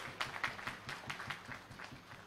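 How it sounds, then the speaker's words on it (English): Scattered hand claps at the grand opening of an HR conclave at GLA University, Mathura, a moderate audience applauding at a mid distance with a loose, uneven rhythm. "A big round of applause to all of you."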